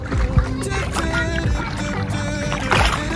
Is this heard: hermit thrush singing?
no